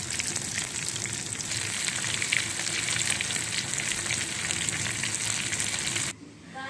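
Chicken pieces for crispy fried chicken sizzle steadily in hot oil, a dense, even crackle that holds for about six seconds, then drops away abruptly to near quiet.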